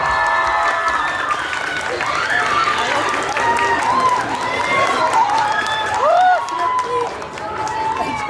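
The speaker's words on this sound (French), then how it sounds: "On l'applaudit très très fort." An audience applauds the audience-prize winner of a cosplay contest at a convention; the dense clapping and crowd noise run under a presenter's amplified voice throughout.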